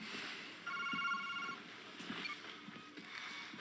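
A telephone rings with a bright trilling ring in a quiet room, one burst followed by softer fading tones, with no one talking over it.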